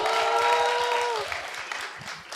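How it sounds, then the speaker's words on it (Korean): An audience at a Korean talk show applauds a student, with a burst of clapping that fades over a couple of seconds while a sustained tone sounds at the start. "우리 김호희 군한테 박수 한번 주세요."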